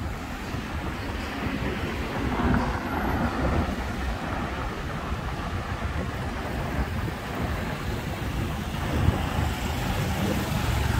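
An underground Bangkok Orange Line MRT train ride: a steady, loud, broadband rumble of wheels and tunnel noise that holds evenly for the whole stretch with no voices over it.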